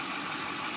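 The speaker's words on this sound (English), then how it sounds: "Engine runs strong" A 2008 Ford F350 diesel dually 4x4 flatbed work truck with 115K miles runs steadily, its engine giving a continuous broadband rumble with no talk over it.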